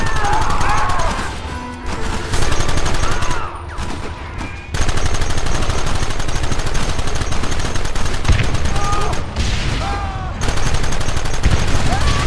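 Dense, loud gunfire rattles almost continuously through a Red Dead Redemption mission, with overlapping rapid shots and brief lulls, and shouted game voices mixed in.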